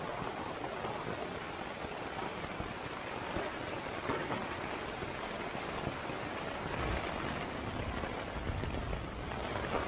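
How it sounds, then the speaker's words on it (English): Rain pours steadily onto a Sierra Designs Full Moon 2 tent during a thunderstorm, a dense, even hiss of drops on the fabric that continues unbroken throughout. "It's raining pretty good."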